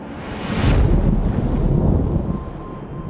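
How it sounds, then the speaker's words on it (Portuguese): Strong wind roaring across open sea, buffeting the microphone with a loud, steady rush that swells early and stays heavy, with waves churning beneath. "No início da noite, um vento forte sopra e sua paz é destruída."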